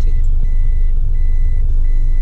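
A Toyota Fortuner's reversing alarm beeps steadily in a regular pulsing pattern once reverse gear is engaged, the tones sitting over a loud, low engine rumble with no talk.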